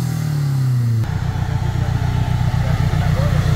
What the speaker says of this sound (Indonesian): Suara mesin lebih halus, lebih stabil.